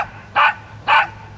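A trick dog barks out answers to simple math sums, two short loud barks close by at an even pace, with a quiet pause between them.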